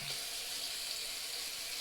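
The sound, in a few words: water from tap rinsing razor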